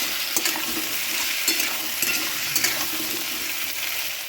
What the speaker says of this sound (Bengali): এবারে এর মধ্যে দিয়ে দিচ্ছি কুচিয়ে রাখা টমেটোগুলো। সমস্তটা দিয়ে আমি আবারও খুব ভালো করে ভেজে নেব।